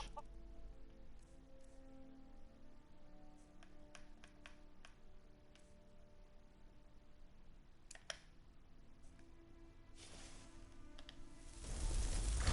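Chickens cluck softly and continuously in a video game, under clicking sounds and a steady background hum, with a louder burst of noise at the end.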